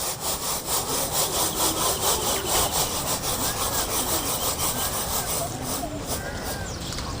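Millet grains rubbed and sifted by hand while cleaning them for a five-millet payasam, a steady close rasping, scratching texture running continuously with a regular back-and-forth rhythm.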